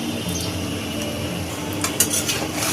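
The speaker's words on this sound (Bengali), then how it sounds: "এখন এভাবে আস্তে আস্তে নাড়াচাড়া করে আমগুলো চিনির সঙ্গে মিশিয়ে নেব।" Mango pieces are stirred with brown sugar in a pot for a Kashmiri mango pickle, a spoon scraping and knocking against the metal with a few sharper clinks over a low steady background.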